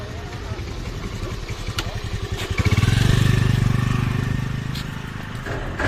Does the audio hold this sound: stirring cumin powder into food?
no